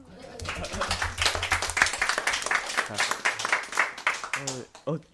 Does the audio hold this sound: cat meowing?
no